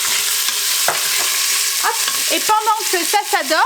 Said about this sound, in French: c'était des escalopes de poulet que j'ai coupées en gros cubes et je vais les faire dorer